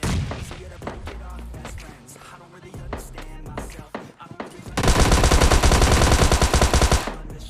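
Automatic gunfire in a Hindi-commentated battle royale video game, a dense sustained burst of rapid shots after scattered earlier single shots and impacts, loud and close.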